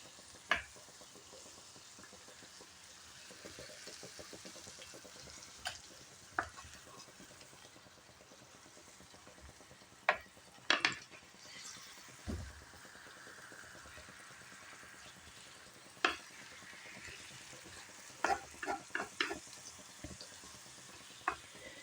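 Chicken pieces and onion fry in a tagine, giving a quiet, steady sizzle with a few sharp clicks and pops scattered through it and no talking.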